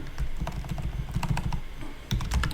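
Rapid keystrokes on a computer keyboard while entering an Oracle Database search on a download site, close and fairly loud, in quick irregular bursts with a brief pause near the end.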